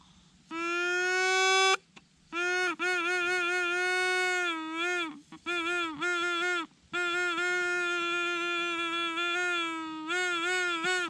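A rice straw pipe is blown in a run of reedy, buzzy notes broken by short gaps, some wavering and bending in pitch like a whining cry, played loud and close without speech.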